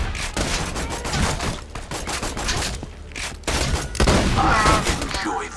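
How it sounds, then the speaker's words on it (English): Gunfire in the video game Borderlands 2: dense, continuous bursts of shooting and impacts fill the whole stretch, with brief quieter gaps and a heavier volley near the end. "There are bad guys shooting me."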